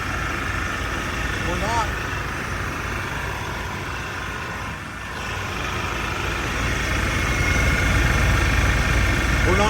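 A/C compressor running steadily on an idling 1991 GMC K1500 pickup with a 5.7-liter engine, a continuous engine drone with a brief voice talking over it.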